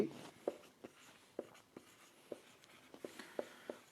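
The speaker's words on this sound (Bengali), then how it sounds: "প্রথমে আমি লিখছি" A marker or chalk taps and scratches on a board during a biology lecture, with about a dozen short, quiet strokes in an uneven rhythm in a hushed room.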